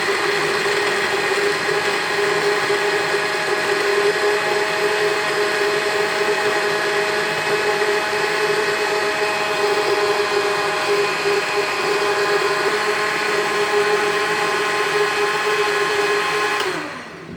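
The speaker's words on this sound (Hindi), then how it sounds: "अब इसको हम लोग ब्लेंड कर लेंगे।" A blender runs steadily, whirring pineapple chunks with cream and sugar into a drink, loud and continuous for the whole stretch before cutting off at the end.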